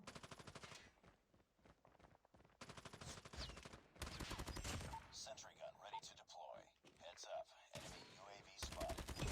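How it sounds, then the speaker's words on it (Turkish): Bursts of automatic gunfire and thudding shots in a Call of Duty Mobile firefight, rapid repeated volleys coming in waves across the clip, with a voice talking between and over the shooting. "Yerden çatışma sesleri var ama"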